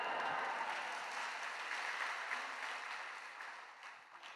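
A church congregation at an early-morning worship service applauds, a broad wash of clapping that is fairly faint and slowly fades over a few seconds.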